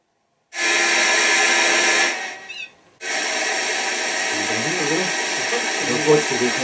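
A steady hiss of electronic noise from a ghost box with a built-in pod fills most of the stretch, cutting out briefly midway before resuming, with faint warbling tones rising underneath later on.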